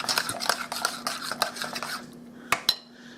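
Ingredients are stirred together in a bowl for baked Russian chicken, with a spoon clinking and scraping against the dish in a quick irregular rhythm, close up, followed by a few sharper knocks as it tails off.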